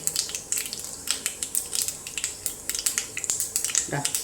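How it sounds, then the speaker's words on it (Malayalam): Mustard seeds popping and crackling in hot oil in a pan, heard as a close run of sharp, irregular pops over a steady sizzle, with a low voice briefly in the background. "കടുക് പൊട്ടട്ടെ നന്നായിട്ട്"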